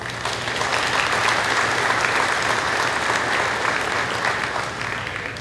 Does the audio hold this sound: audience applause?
yes